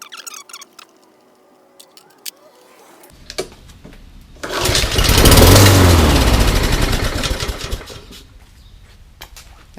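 Honda engine on an old MTD lawn mower turning over after a few clicks and clatters, then catching and running with a loud, close, steady buzzing drone before easing off into quieter handling noises.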